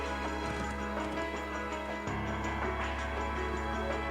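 Horse hooves while riding in the Trails of Cold Steel video game: rapid rhythmic clip-clop of galloping hooves over a steady game background hum, continuous throughout.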